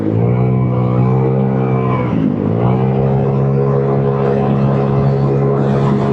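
A Vespa scooter fitted with a 171cc Piaggio bore-up kit howls at full throttle, a loud, steady engine drone that dips briefly, then climbs again in pitch as it accelerates, with no talk over it.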